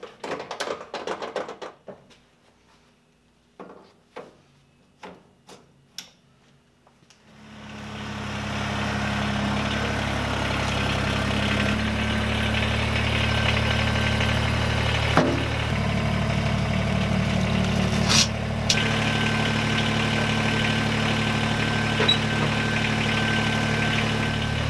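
A few sparse clanks and knocks come first, then a tractor engine starts up. It settles into a loud, steady idle close by for the rest of the stretch, with no talking.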